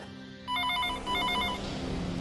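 A telephone rings in loud, repeated electronic trills, with two bursts of ringing close together indoors and no speech over them.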